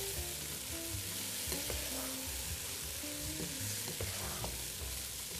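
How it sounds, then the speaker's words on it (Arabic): Rice with onion and mango pickle is turned over in a hot pan. A continuous sizzle carries soft, irregular scraping and stirring strokes throughout, with no speech. "لازم نقلب العيش من فوق لتحت"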